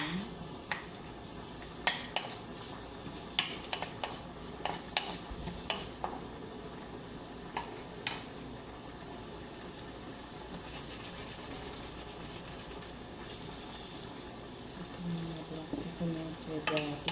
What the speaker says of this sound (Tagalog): Lutuin lang natin yung mushroom.